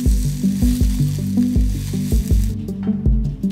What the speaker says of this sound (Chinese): 另起油锅，下蒜片、青红椒圈煸香，倒入韭菜翻炒